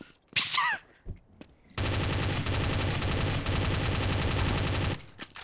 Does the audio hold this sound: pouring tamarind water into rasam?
no